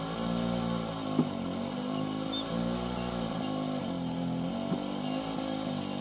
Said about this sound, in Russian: Плуг. Там моторист, лебедка.